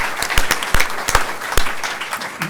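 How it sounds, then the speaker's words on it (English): A small audience at a Klein ISD school board meeting claps for a newly introduced member, with sparse, distinct claps spreading into a short round of applause that fades near the end. "Let's give Amber a round of applause for herself."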